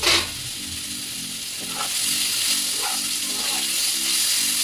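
Potatoes and onions sizzle and fry in hot oil with bay leaf and dried red chili for a rohu fish curry with ridge gourd, a steady close crackle with faint stirring scrapes and a low hum underneath.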